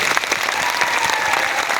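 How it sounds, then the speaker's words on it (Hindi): Audience clapping with raised hands at a Hindi-language public gathering, a dense, steady burst of close applause filling the short moment without pause. "आप पहले तो एक बार इनके लिए थोड़ा हाथ ऊपर करके दिल से प्यार से ताली बजाएं"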